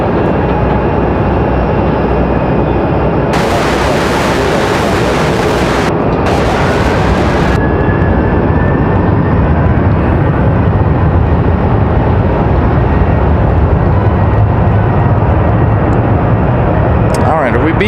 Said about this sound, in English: We've got American Airlines, this 737 getting out of here.